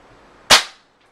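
A Crosman M4-177 pump air rifle fires a single sharp crack, close and loud, pumped three times before the shot indoors. The report decays quickly and is followed by a faint click.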